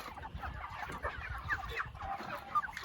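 Thirty-seven chickens in a chicken tractor on a homestead cluck steadily at moderate distance, a busy continuous murmur with occasional sharper calls.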